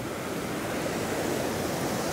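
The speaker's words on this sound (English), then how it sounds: "meaning that there is water rushing up there" Rushing water of Bluff Creek, a dense, steady roar of current close by, continuous and broadband with no voices.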